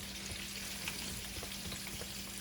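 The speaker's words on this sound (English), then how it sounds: "And we're going to fry up these ribs." Ribs fry in a pan with a constant loud sizzle and crackle, small pops scattered through a steady hiss and a low hum underneath.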